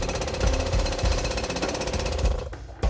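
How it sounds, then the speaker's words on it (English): A jackhammer pounds continuously and loudly up close, breaching a hole in a rubble pile during a rescue exercise. Its rapid hammering pulses steadily and cuts off near the end. "They have just breached a hole with the jackhammer."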